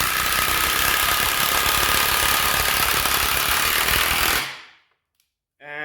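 An Ozito 18V three-speed impact wrench drives a 100mm batten screw, a loud steady rattling hammer-and-motor whine held for over four seconds close up, then stopping abruptly into silence.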